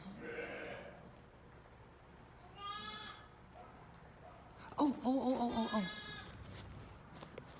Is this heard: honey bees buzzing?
no